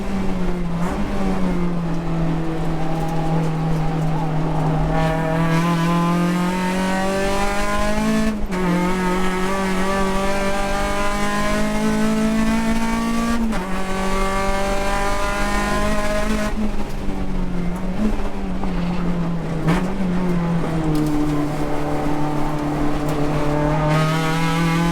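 Touring cars race on the Las Vegas track in a US Touring Car Championship round, one loud engine near and steady, revving high through the gears with repeated sharp shifts and dips, no voices.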